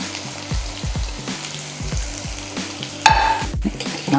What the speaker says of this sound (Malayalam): അതിൽ വെളുത്തുള്ളി, ഇഞ്ചിയും കൂടി അതിനകത്തോട്ട് ഇട്ട് കൊടുക്കാം